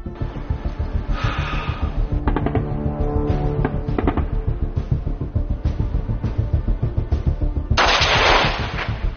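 A soldier fires at targets during a scout selection competition abroad, with repeated close gunshots in an irregular rhythm over a constant rumbling background, ending in a louder sustained blast of noise.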